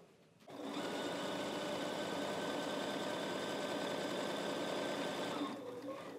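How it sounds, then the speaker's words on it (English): A sewing machine stitches cloth napkins in a steady, fast mechanical whir with rapid needle clatter. It starts after a half second of quiet, runs evenly and close for about five seconds, then stops. "So let's jump over to the sewing machine, and we will go ahead and start sewing our project together."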